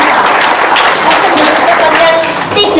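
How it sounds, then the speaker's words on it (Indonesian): Audience clapping at a lively talk show recording fills the room. The applause is loud and close, mixed with crowd noise, and voices carry on underneath it. "Tepuk tangan dong."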